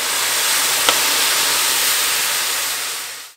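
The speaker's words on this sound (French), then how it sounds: "Je vais juste venir mouiller le fond avec un peu de vin blanc. Question de déglacer." White wine is poured into a hot pan to deglaze it for a chanterelle mushroom risotto, producing a loud, steady hiss and sizzle at close range that fades slightly before cutting off, with no talk.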